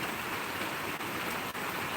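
Steady rain falls outside a balcony, a dense even hiss of close, continuous downpour with no breaks.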